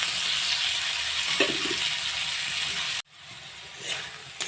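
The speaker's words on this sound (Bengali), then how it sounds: "এবার এর মধ্যে দিয়ে দিচ্ছি, একটু ভেজে নেব আলুগুলোকে।" Thin-cut, washed potatoes drop into hot oil for a spicy fish curry, a steady bright sizzle that briefly cuts out, then continues close and alone.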